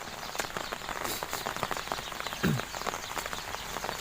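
Rain falls steadily on a roadside spot near fish and crab traps during a rainstorm, a constant soft patter with scattered drops and one brief louder splash near the middle.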